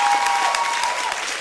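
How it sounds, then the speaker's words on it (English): Audience applause at an Empowering Women To Succeed event, dense steady clapping filling the short moment at a fairly loud level with no talk over it. "Keep clapping for her."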